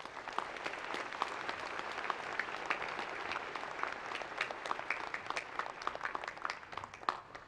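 A large audience applauds at the inauguration ceremony of Hawaii's new governor, a steady dense clapping that holds for several seconds with scattered sharper claps and no talk.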